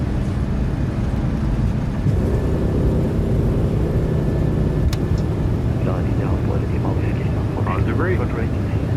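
Airliner takeoff roll in Microsoft Flight Simulator 2020 from Oslo, a loud steady engine roar and rumble building throughout, with a voice calling over it and a brief click midway.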